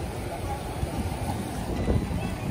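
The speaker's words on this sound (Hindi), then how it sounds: "पानी का शोर देख रहे हैं आप" Sea water at Karachi's Sea View beach, a steady rushing wash of surf and waves with wind buffeting the microphone, fairly loud and continuous.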